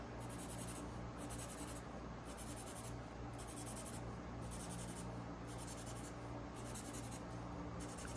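A pen scratches across paper in quick repeated strokes, marking off items on a list. The strokes come in about ten rhythmic bursts that are close, steady and alone, with no voices.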